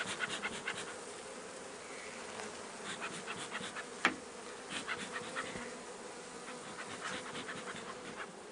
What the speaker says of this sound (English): What are you doing, you silly bees?